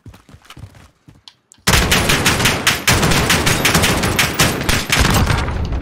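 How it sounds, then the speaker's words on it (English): Gunfire in Modern Warfare starts with a few sparse shots, then breaks into loud, sustained rapid automatic bursts that continue close and dense to the end. "Okay, I concentrated and aimed and shot him, and he died."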